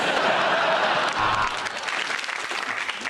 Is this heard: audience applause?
yes